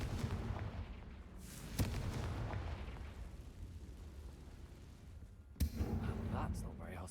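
Confringo fire spell cast in Hogwarts Legacy, landing as two sharp explosive bursts a few seconds apart over a dense rumbling game soundscape, with faint voices in the mix.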